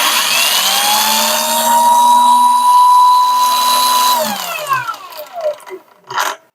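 Lucid LY 8500 angle grinder running at speed 1: a loud, steady high motor whine with clear harmonic tones that holds for about four seconds, then winds down in pitch, followed by a few short clatters and knocks.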